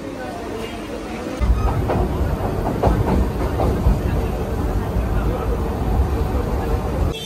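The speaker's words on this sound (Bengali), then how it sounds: "চলো ট্রেনে ওঠা যাক।" Passengers board a waiting train, with the rumble and clatter of rail cars and wheels on track. Crowd babble and voices mix in, and the noise jumps louder after the first second and stays steady.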